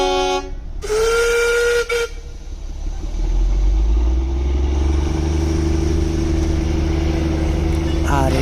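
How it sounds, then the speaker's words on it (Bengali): A coal-powered Darjeeling toy train at Batasia Loop gives a loud, sustained steam whistle blast, then its engine rumbles and hisses in a rising low drone as it pulls away, with a second short whistle at the end. "আর এই টয় ট্রেনটি বাতাসিয়া লুপে তার যাত্রা বিরতি শেষ করে আবার ঘুম স্টেশনের জন্য ছেড়ে দিল।"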